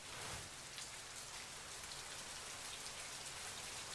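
Rain falls steadily in an anime scene, a dense even hiss of drops with no voices over it.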